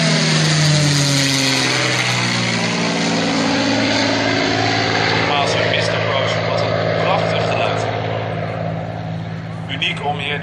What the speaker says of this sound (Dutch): En weer de Mustang op rechts.